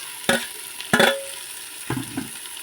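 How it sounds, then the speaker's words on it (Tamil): A spatula scrapes masala around a pan in four distinct strokes, two sharp ones then a softer pair, over a light background sizzle, close up with no talking. "இதை கிண்டி விட்டுறணும், பச்சை வாசனை போகிற வரை"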